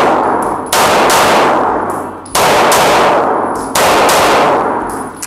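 Daniel Defense H9 pistol shots ring out loud and close, four sharp reports in a fast uneven string, each trailing into ringing echo and clanging brass.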